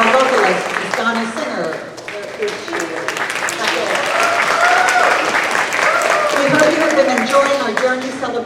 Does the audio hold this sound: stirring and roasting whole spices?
no